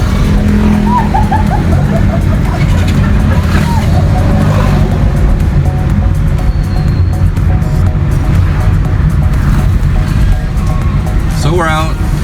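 Car engine revving through gear changes on a busy street, loud and continuous with traffic noise and tire sounds around it.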